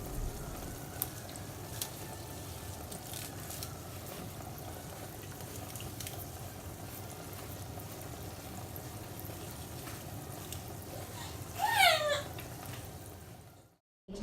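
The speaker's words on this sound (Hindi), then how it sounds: "इसको डोनट्स को जो है पलट पलट के फ्राई करते हैं" Homemade chocolate donuts fry in hot oil, a steady low bubbling and soft sizzle that carries on evenly throughout, with a brief chirping sound near the end and no talking.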